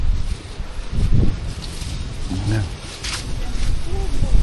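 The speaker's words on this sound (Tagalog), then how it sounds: "Uy, mahangin." Wind gusts buffet the microphone outdoors in uneven, rumbling bursts while people talk nearby.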